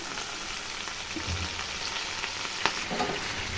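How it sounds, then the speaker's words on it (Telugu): Spinach frying in a pan with coriander seeds and cumin, a steady dense sizzle that fills the whole stretch, with a few soft stirring knocks and scrapes mixed in. "పచ్చివాసన పోయేంత వరకు బాగా వేయించుకోవాలి ఫ్రెండ్స్"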